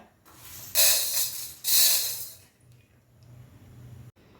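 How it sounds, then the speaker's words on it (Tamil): Urad dal dry-roasting in a kadai without oil, giving two loud bursts of hissing, rattling sizzle followed by a quieter, fainter scraping hiss. "உளுந்தம்பருப்பை வந்து சேர்த்து வறுக்கிறோம் ஒரு கடாயில்"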